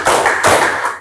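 Three steady, evenly spaced hand claps in a classroom clapping game, each a blurred burst that suggests many hands together, near and loud with no voices.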